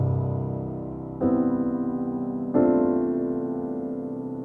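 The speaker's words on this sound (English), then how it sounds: "But if I'm going to play it with just the damper pedal, it sounds like this." Left-hand piano chords sustained with only the damper pedal: three chords struck in turn about 1.2 seconds apart, each ringing on and blurring into the next, played alone and fairly loud.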